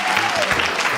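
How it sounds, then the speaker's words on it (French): Audience applause in a hall, steady clapping from a crowd heard close and fairly loud, with no talk over it. "Et je vous demande de les applaudir pour ça."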